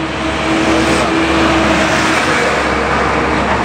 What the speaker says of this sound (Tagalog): ang lalaki na truck na nadaan